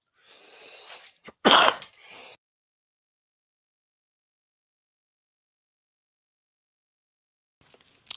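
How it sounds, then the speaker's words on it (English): A man coughs hard to clear up phlegm, a short burst of harsh throaty hacks and one forceful cough, followed by long silence and a faint rustle at the end. "had to cough up a loogie"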